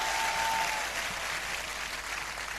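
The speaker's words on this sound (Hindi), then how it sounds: "बजाओ ताली।" Audience at a Safeshop seminar claps together in a steady round of applause, fairly even and sustained throughout, with no speech over it.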